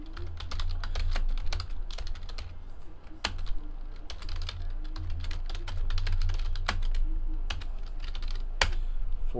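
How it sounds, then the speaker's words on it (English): Someone types on a computer keyboard with quick, irregular key clicks and occasional sharper taps, close and steady for about nine seconds over a low background hum. "We'll type in all of the hits"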